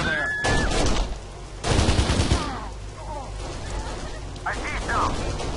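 Gunfire from the video game Kane & Lynch: Dead Men, bursts of shots crackling in the background amid game ambience, with voices talking over it.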